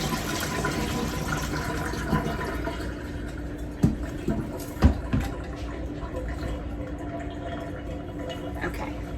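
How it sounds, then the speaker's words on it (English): Water drains steadily from a pickling container into a sink, a continuous soft gurgling wash with a few louder clunks and splashes partway through. "we're going to drain it, all the water that's in here, into the sink"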